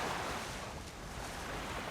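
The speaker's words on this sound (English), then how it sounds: "we're in some moving water" Moving river water at a brook trout fishing spot, a broad steady rushing wash with some wind buffeting, continuous and fairly close, with no talk.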